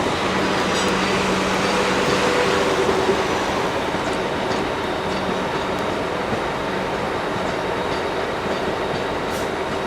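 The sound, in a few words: South Western Railway class 450 train pulling away at London Waterloo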